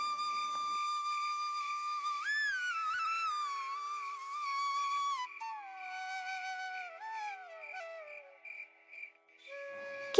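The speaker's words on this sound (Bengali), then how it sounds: "হঠাৎ শুনতে পেলাম কোথা থেকে যেন একটা বাঁশির আওয়াজ ভেসে আসছে" A lone bamboo flute plays a slow, wavering melody with sliding pitch bends at night, clear and unaccompanied, in a Bengali ghost-story animation.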